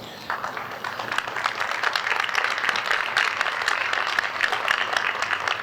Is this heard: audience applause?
yes